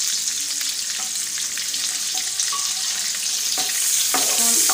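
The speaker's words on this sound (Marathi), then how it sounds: "कांदा फ्राय करून घेणार आहोत।" Onions frying in hot oil in a pan for a paneer do pyaza, a steady loud sizzle throughout with occasional scraping stir sounds close by.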